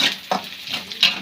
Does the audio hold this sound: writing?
no